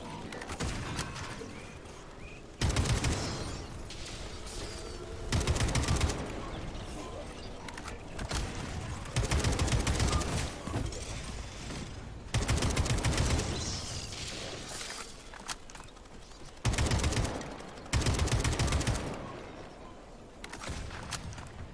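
Video game gunfire in Atomic Heart comes as repeated loud bursts of rapid shots, each lasting a second or two and separated by quieter gaps, with someone talking between them.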